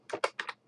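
A few quick keystrokes tapped on a computer keyboard while entering code, five distinct clicks in an uneven rhythm, close and fairly quiet with no one talking.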